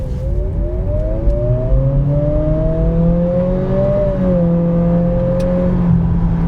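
A 2025 Acura ADX A-Spec SUV accelerates from low speed on the road, its engine note and a rising mechanical whine climbing steadily in pitch for several seconds, then easing slightly as it levels off, heard from inside the cabin.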